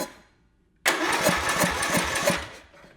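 A rat rod racing lawn mower engine cranks for a couple of seconds with a rapid chugging pulse, close and loud, then cuts back down.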